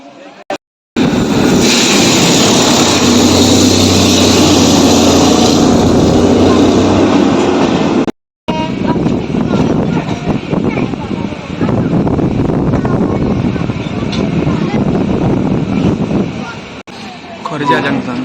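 Gomati Express train pulling out of Aligarh in India, a loud continuous rumble of the moving train heard from on board, with a brief dropout early on and steady running noise throughout.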